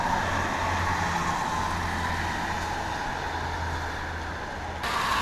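A bus from the PO Haryanto fleet passes on a road during a bus convoy, giving a steady, fairly loud broadband engine and tyre roar with a low engine hum that holds throughout, with no talk.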